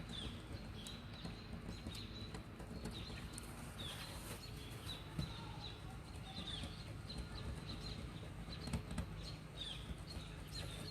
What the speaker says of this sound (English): I've got lots of birds in my neighborhood.